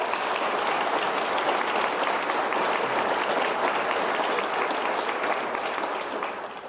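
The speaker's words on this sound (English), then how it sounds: "So please give him a round of applause." Steady, dense applause from an audience at a rifle graduation ceremony for law enforcement officers, honoring a retiring program director, holding loud and even throughout before easing slightly at the end.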